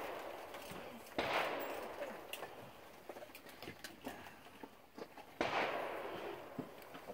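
Two sharp shots from a Henry rifle crack out about four seconds apart, each a loud broadband burst with a short fading tail, over a busy outdoor range of scattered pops, clicks and murmuring voices.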